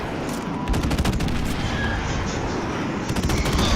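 An airstrike in a World War II shooter video game brings a dense barrage of rapid booming blasts and rattling gunfire, loud and continuous from start to finish.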